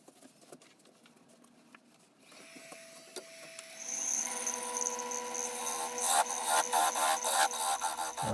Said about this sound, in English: Finishing parting this off now with a 1/16 parting tool